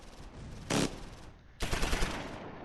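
Gunfire rings out in the Close Combat IV war game: a sharp short burst followed after a pause by a longer rattling volley, loud over a faint ambient hum.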